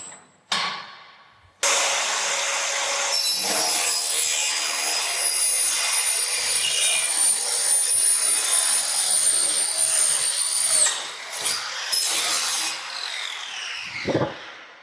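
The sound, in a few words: timber cross cut with a profiling and angle cutting machine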